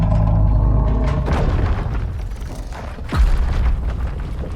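Titan boom in Dragon Age: The Veilguard: deep, heavy rumbling that fills the scene, with a second low thump and rolling impact partway through, loud and close.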